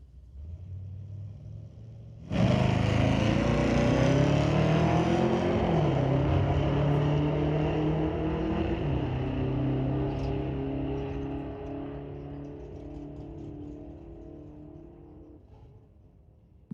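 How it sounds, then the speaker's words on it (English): A 1983 Mustang hatchback with a 502 engine drag racing down a strip bursts into a loud, roaring full-throttle run after a quiet start, the engine note climbing through the gears before gradually fading as the car pulls away. "Now we have Del James and his hatchback 83 Mustang"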